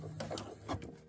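Short bursts of a sewing machine stitching a pleated skirt hem at a 3.5 stitch length, quiet mechanical whirring and clatter in two brief runs close by.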